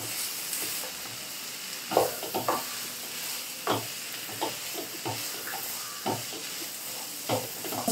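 Vegetables for vegetable kurma sizzle in a hot pan under a steady hiss, with a spoon scraping and stirring every second or so, close and continuous.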